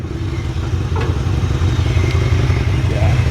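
The V8 of a 1965 Chevrolet C10 pickup idles close by, a steady continuous low throb with faint mechanical clatter on top.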